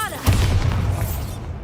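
A Bombarda explosion spell in Hogwarts Legacy lands as a single heavy boom with a sustained low rumble that slowly fades.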